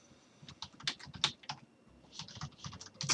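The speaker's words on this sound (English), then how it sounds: "Let me type that in." Fingers tap quickly across a computer keyboard, close and fairly quiet, in uneven bursts of keystrokes with brief gaps and no talking.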